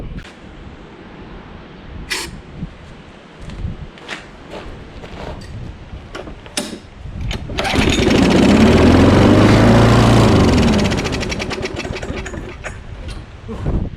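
A used lawn mower, squirted with WD-40 after a spark plug refit, cranks and then catches, building to a loud, steady running engine that gradually settles lower.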